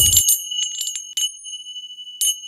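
Handmade cymbal bells bought cheaply online ring out in a series of bright metallic strikes, each leaving a clear sustained shimmering tone that overlaps the next, close and alone.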